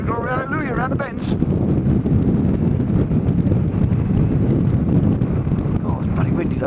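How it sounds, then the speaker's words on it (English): Heavy wind roars over the microphone while a Yamaha MT-07 (FZ-07) motorcycle is ridden, a loud, constant low buffeting that stays close throughout, with a brief voice near the start. "Oh, it's bloody windy though."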